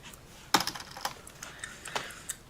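Fingers tapping on a computer keyboard while answering an email: soft irregular keystrokes come in small bursts, with a few louder clacks standing out close to the ear.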